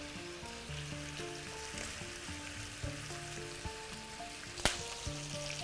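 Half the onions drop into a hot pan and sizzle steadily while lamb ribs are cooked without an oven and smoked over charcoal. The frying sits under background music, with a sharp clink near the end.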